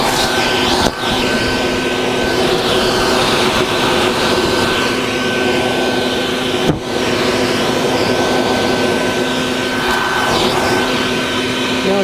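A vacuum cleaner runs steadily and loudly, drawing foraging wasps from a nest on a sunny day; the motor drone stays even throughout, with two brief dips in the airflow.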